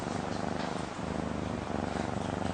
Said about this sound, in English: everyone's gotta love cats